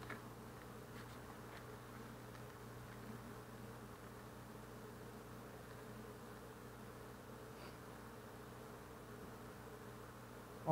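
Honey bees buzz during inspection of a hive that recently swarmed and now has a young laying queen. The steady, fairly soft drone of many insects continues unbroken from start to end, with no voices.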